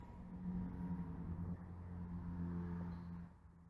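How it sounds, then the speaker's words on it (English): A car drives past outdoors at night near a historic hall, a low steady engine rumble at moderate distance that holds for several seconds and then eases off near the end. "We'll wait till this car goes by"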